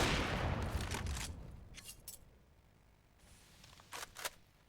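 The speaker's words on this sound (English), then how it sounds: "Shiro baiting out an AWP shot" Gunfire in a Counter-Strike match: a loud, close shot with a decaying boom opens the moment, followed by a few sharper distant cracks in a pro match between Hellraisers and Gambit Youngsters.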